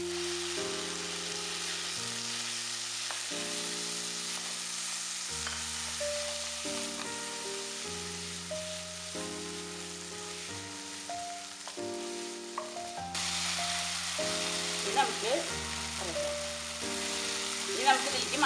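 Mushroom roast with ginger garlic paste and tomato fries in a pan, a steady close sizzle running beneath louder background music throughout.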